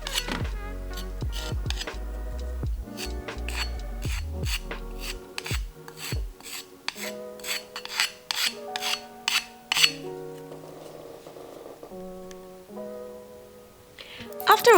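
Filler on a 3D-printed cosplay accessory is sanded by hand in quick, rhythmic rasping strokes, close and fairly quiet, broken by short pauses and a few clinking taps.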